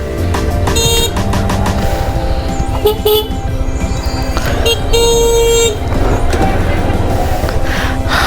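Car and truck horns honk again and again in a roadside traffic jam near a flower valley in Chapra, loud and overlapping over engine rumble and traffic noise.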